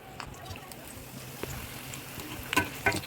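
Samosas fry in hot oil with a soft, close crackling sizzle, broken by a few sharper pops and bubbling bursts toward the end of a few seconds.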